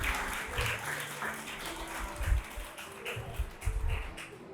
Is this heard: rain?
no